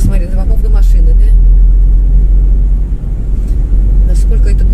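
Car on the road heading to a garage, a steady low engine and road rumble heard from inside the cabin, with a person speaking over it at the start and end.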